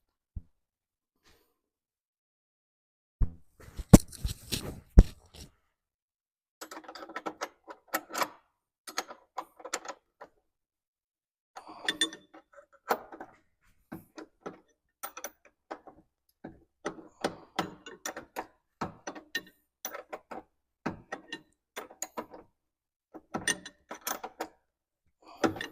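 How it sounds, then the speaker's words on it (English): Wrenches and sockets snug up a part on a BMW E39, giving a run of sharp metallic clicks, ratcheting ticks and clanks in irregular bursts, close and fairly loud, with no talking. "I'm gonna grab some sockets. I have a wrench here, and I have another wrench here."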